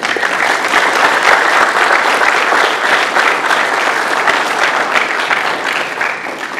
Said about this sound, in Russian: Аплодисменты судим.